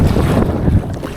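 Strong wind buffeting the microphone while kayaking on open water, a loud low rumble with gusty roar lasting about a second before easing slightly.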